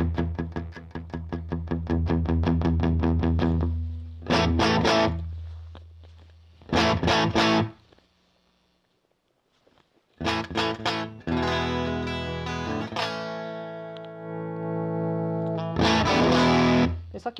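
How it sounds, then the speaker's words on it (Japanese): Electric guitar played in bursts of strummed chords and picked notes through a UAFX Ruby '63 amp with gritty distortion growing as guitar volume rises, long sustaining tones, loud and close. "音量の増加とともにちょっと音が歪んでいくって感じですね"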